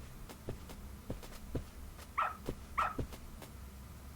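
A dog in the video game Lost Judgment gives two short, sharp barks a moment apart, clear and close over soft footsteps and quiet in-game ambience.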